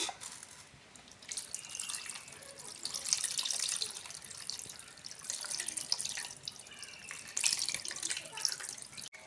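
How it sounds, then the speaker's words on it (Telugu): Tamarind water pours into a pot for fish curry, a soft continuous splashing and trickling that swells and eases, close and fairly quiet throughout. "చింతపండు నీళ్ళైతే పోసేసాం"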